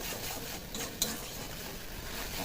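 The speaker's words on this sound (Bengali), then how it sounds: "চিংড়ি মাছের মাথাটা যতক্ষণ সুন্দর করে না ভাজা হয়ে যাচ্ছে ততক্ষণ কিন্তু আমি এটাকে ভেজে নেবো সুন্দর করে" Prawn heads with salt and turmeric fry quietly in a pan, a soft, fairly faint sizzle with a single light metallic clink as they are stirred.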